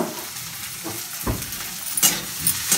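Onions frying in a pan until browned for a karela dish, a continuous sizzle broken by a few soft scraping stirs and light clinks, with no talking.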